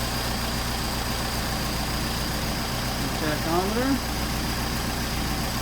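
A Mercedes 190SL fitted with Solex 44PHH carburetors idles steadily, a smooth continuous engine drone up close, while someone speaks briefly over it.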